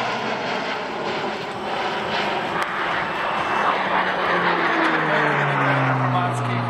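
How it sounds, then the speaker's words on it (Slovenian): Pair of Slovenian Army Pilatus aircraft making a low aerobatic pass at an air show in Ajdovščina, a loud, steady engine roar with a falling pitch as the planes sweep by, with a voice talking over it. "torej dvojka pilatusov Slovenske vojske na prireditvijo 50-letnice letalske šole Ajdovščina"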